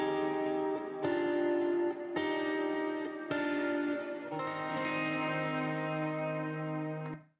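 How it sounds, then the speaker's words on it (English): Electric guitar strums from a Dolby Atmos music mix, with echoes placed around the listener. Several sustained distorted chords ring out in sequence over about seven seconds, each with effects-laden repeats, before a final chord fades abruptly. No one speaks. "I did the same thing with the electric guitar where there is a strum right here in this part of the song."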